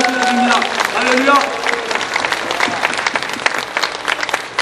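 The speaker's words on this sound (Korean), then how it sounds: "주님 앞에 다시 한번 영광의 박수, 감사의 박수를 드립니다." Church congregation applauding at a New Year thanksgiving Sunday worship service, a dense close wash of clapping with voices and pitched tones mixed in early, then steady broadband claps continuing throughout.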